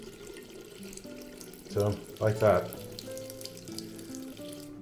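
Hot water running from a bathroom tap in a fixer-upper house in Noto, Sicily, a soft steady splashing stream heard fairly faint and close, with a person briefly speaking over it midway.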